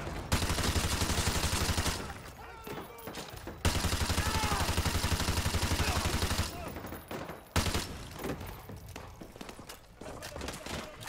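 Automatic gunfire in Call of Duty Modern Warfare 2 Remastered, dense loud bursts with short gaps, shifting to scattered distant shots and brief talk.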